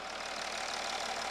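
Mercedes-Benz S-Class W222 with a 656 engine running steadily after being started, a faint, even hum with a broad hiss and no voices.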